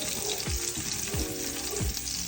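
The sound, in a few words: garlic frying in pan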